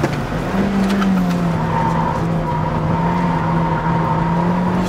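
Car tires squeal in a long, sustained whine over a loud engine, the pitch wavering slightly as a manual Kia New Pride 1.6 slides through a corner at Inje Speedium race track.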